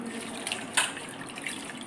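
Water runs at a kitchen sink while minced vayda greens are given a second rinse, a soft continuous splash with a brief louder gush midway, close by and alone.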